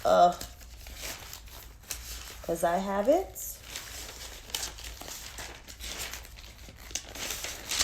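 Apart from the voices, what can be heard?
paper being handled and crinkled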